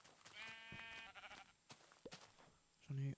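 Sheep bleating in the Minecraft video game, a few short tonal bleats, the loudest and closest one near the end, with someone talking in French in between.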